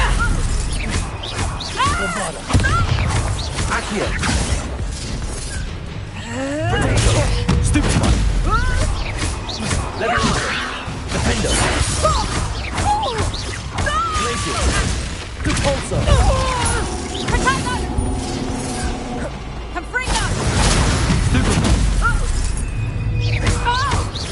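Confringo spells blast repeatedly in Hogwarts Legacy combat, producing shattering bursts, crashes and booming impacts in quick irregular succession, with a voice talking over the chaotic fight.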